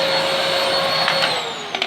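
A small Vax handheld vacuum cleaner runs with a steady high-pitched whine and airy rush, loud and close, with a couple of brief clatters near the end.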